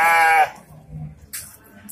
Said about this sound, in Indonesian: Ini kibas ekor gemuk.